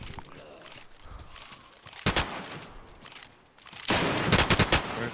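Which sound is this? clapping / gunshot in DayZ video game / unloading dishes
gunshot in DayZ video game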